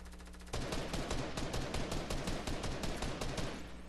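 Rapid bursts of automatic gunfire crackle loud and close in the video game Fortnite, a fast rhythmic volley of shots lasting several seconds with no talk over it.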